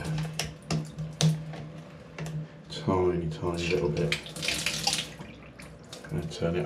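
Water runs through the bottom outlet of a newly fitted shower valve, a steady splashing gush that swells midway, with a person talking briefly over it.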